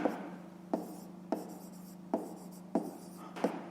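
Handwriting during a grade 5 maths exercise: a pen or pencil scratches across paper in short strokes, each beginning with a light tap, repeating about every half second, close and quiet with no talk.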